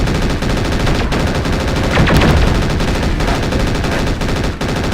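Relentless rapid gunfire and weapon impacts pound a mech in the MechWarrior 4: Mercenaries game, loud and continuous for several seconds with a heavier burst in the middle.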